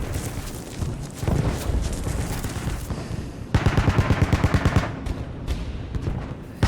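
Bursts of machine-gun fire from a World War II battle scene, loud and dense, with a sharp rapid rhythmic volley in the middle over a constant roar of combat noise.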